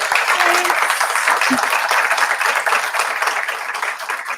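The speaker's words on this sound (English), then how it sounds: "Can we have a round of applause for Eloise and Mandy?" Loud, close applause from an audience at a graphic novels talk rings out for Eloise and Mandy, dense clapping throughout that thins slightly toward the end.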